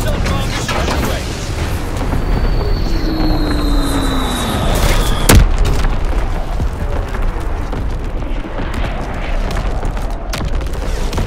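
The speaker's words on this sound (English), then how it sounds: "Firing primary battery. Target position confirmed." Artillery battery explosions boom through a Call of Duty match, a dense, continuous roar of blasts with one sharp crack midway, a descending whistle overhead and radio voices speaking throughout.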